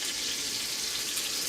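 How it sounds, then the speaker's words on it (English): Scallops sizzle in a frying pan, a steady close hiss of hot oil spitting against moisture with no pauses. "See that sizzle? That means it's a little water in there."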